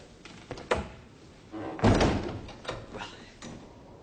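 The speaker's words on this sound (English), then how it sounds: "Close the door, you idiot." A palace chamber door is shut in a period adventure drama, a few soft knocks and rattles followed by one heavy thud, close and loud, then fading room noise.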